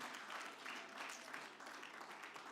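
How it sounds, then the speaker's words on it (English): Audience at an international conference for women birders giving another round of applause, a soft, continuous wash of clapping heard from a distance at low volume. "So can we give another round of applause,"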